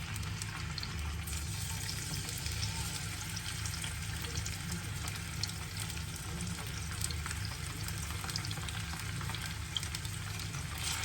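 Sardines frying in hot oil in a pan, a steady dense sizzle and crackle running unbroken throughout, fairly close with no voices.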